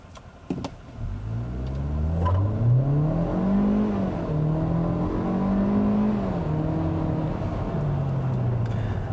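A 2017 Kia Forte5 SX hatchback with a turbocharged engine and automatic transmission accelerating on the road, the engine note climbing steadily through rising revs then settling, loud and close from inside the cabin.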